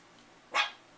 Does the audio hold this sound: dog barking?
yes